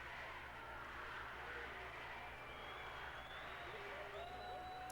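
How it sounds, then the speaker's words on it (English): A wrestling house show crowd at a 1996 WWF Championship match, cheering and applauding in a dense continuous roar, with commentators talking over it. "Crowd's getting into it."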